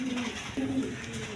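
Several house pigeons coo softly and continuously, close by, a steady rolling murmur with no talk over it.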